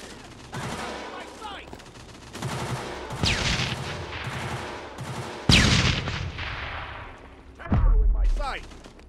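Gunfire in a soldier shooting video game: loud bursts of automatic fire and single heavy shots come in uneven clusters, with sharp booming hits, while a voice calls out over the shooting.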